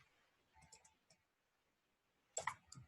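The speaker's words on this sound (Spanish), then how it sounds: "Voy a hacer clic en siguiente" Computer mouse clicks in Visual Studio: a few faint, sharp clicks early on, a pause, then a louder cluster of quick clicks near the end, quiet and close with no talking.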